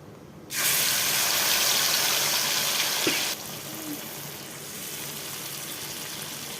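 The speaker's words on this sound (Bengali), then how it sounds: "মিক্সি ধোয়া জলটা দিয়ে দিলাম" Water used to rinse the mixer jar pours into a hot pan of oil and ground spices for a Bengali prawn and brinjal dish, a loud gushing sizzle for about three seconds, then quieter frying.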